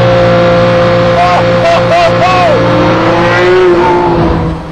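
A Ferrari F50 engine revving hard beyond 5,000 RPM, a loud close-up wailing howl whose pitch climbs and shifts as gears are worked, sustained for several seconds.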